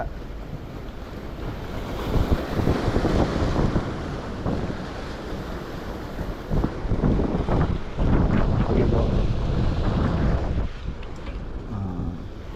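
Strong wind gusts roar across a jetty during a fishing trip, with a steady rush of surf and wind buffeting the microphone. Nobody speaks over it.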